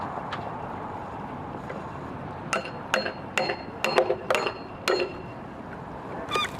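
Hardwood log split with a wedge for bowl blanks: a series of sharp, ringing metallic strikes, about eight or nine close blows in an irregular rhythm after a quiet start, no voices.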